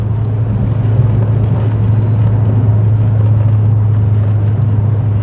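A Mustang V8 fitted to an MG ZT 260 cruises uphill in top gear, a steady low engine drone with an even rumble that holds at constant load and volume throughout, with no voices.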